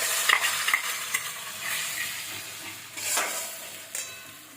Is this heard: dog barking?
no